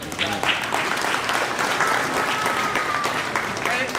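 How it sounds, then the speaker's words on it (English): Audience applause at a Donuts with Dad school event, steady and full throughout with a voice speaking faintly over it. "Give them a round of applause."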